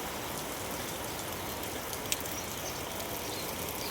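Heavy monsoon downpour in Surat falls steadily on a cattle shed that is filling with water, a dense, even hiss of rain close by with one brief tap, and no voices.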